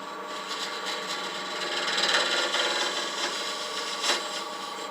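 A scraper cuts hard boxwood spinning on a wood lathe, giving a continuous dry rasping scrape that swells and eases in pressure, close and fairly loud, with no talking.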